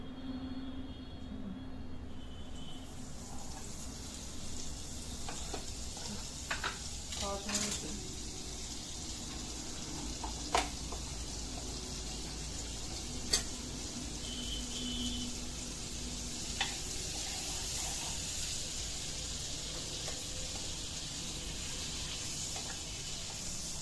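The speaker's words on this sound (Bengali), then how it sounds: "এটা বাটারটা প্রথমে সব জায়গায় লাগিয়ে দেবো যাতে ভালোভাবে ফ্রাই হয়" Paratha fries in butter in a hot pan with a steady, even sizzling hiss that runs the whole time, with faint background noises and occasional small clicks.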